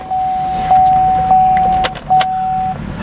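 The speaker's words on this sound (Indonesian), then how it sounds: "sunroof yang bisa dibuka secara elektrik dan juga bisa ditutup secara elektrik" An electric motor whirs steadily, pausing briefly midway before running again, with faint mechanical clicks at the stops; the electric sunroof of a 2015 Chevrolet Camaro sliding open and closed.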